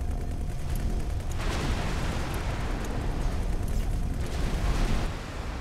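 A pier blows up in the space game X4: Foundations with a loud, sustained roaring explosion that rumbles steadily for several seconds before easing slightly at the end.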